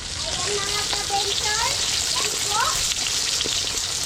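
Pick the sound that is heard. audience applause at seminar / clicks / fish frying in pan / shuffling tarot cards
fish frying in pan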